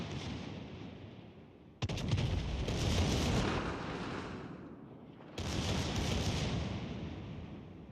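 Heavy naval gunfire from the battleship Vermont in World of Warships Legends: two loud, booming salvos roughly three and a half seconds apart, each followed by a long rumbling roar over a low background drone.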